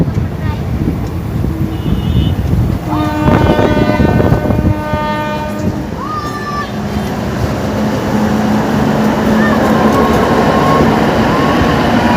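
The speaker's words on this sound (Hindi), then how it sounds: "अब ट्रेन स्टेशन से निकल चुकी है" Passenger train pulling out of Asanpur Kupha station, with horn blasts and rolling wagon rumble, loud and close, buffeted by heavy wind noise on the microphone.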